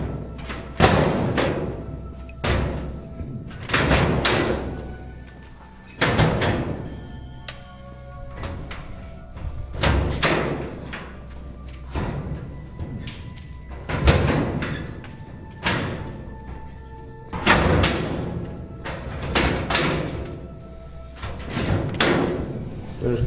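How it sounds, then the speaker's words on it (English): Metal lockers in an elementary school hallway are slammed shut one after another, a long series of loud, echoing bangs spaced a second or two apart, with faint rattles between them. "Shut all the lockers right here."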